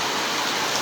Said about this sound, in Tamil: இரவு ஆரம்பத்துலேருந்து மிகுந்த